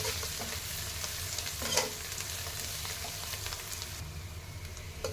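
Coriander leaves frying in a pan for garlic chitranna, heard as a low, steady sizzle with soft stirring, fairly faint and even throughout with one brief louder scrape.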